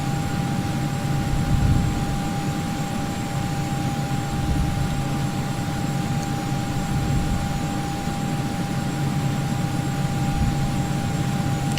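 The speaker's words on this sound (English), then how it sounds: "We will be taxiing via November Lima to holding point Kilo short of runway 23." Steady, loud jet engine drone of an airliner taxiing toward the runway in the Prepar3D flight simulator, with a constant tonal whine over a broad rumbling roar and no talk.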